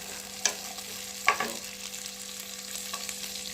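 Garlic sizzles steadily in a frying pan, a continuous crackle with occasional louder stirring scrapes and clinks, close and alone with no voices.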